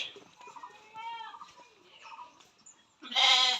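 A 30-inch-tall male Totapari cross goat, about 8–9 months old, bleats loudly once at close range near the end, after quieter bleating from other goats in the background.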